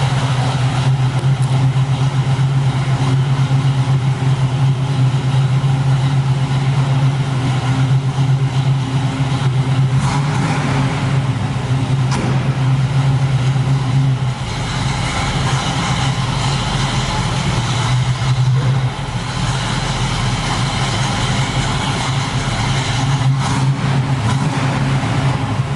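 A 1969 Chevrolet Camaro engine idles with a loud, rumbling, continuous note, swelling with a few revs before settling back, with no talk.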